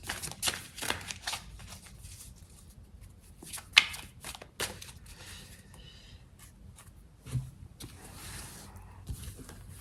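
Tarot cards shuffled by hand ahead of a daily reading, a run of soft papery riffles and flicks with a few sharper snaps, close and fairly quiet, with no talking.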